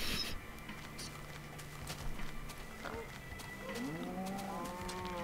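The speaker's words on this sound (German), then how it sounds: "Ach man, ich wollte die Kuh töten." A cow mooing in the Minecraft video game, a rising then falling low call near the end, heard over steady game background noise with faint clip-clop-like sounds earlier.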